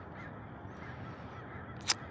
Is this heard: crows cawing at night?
yes